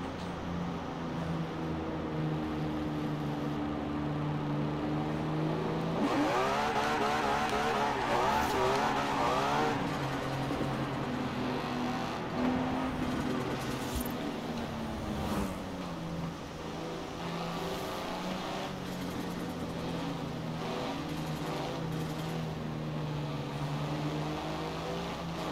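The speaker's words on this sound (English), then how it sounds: "Anna, go to fifth gear and just gas a little and listen to the sound in the cockpit." Simulated car engine from the racing game Forza Horizon 4, held in fifth gear with light throttle from the cockpit view, a steady droning hum with rising and falling pitch sweeps midway, continuous and fairly loud with no talk.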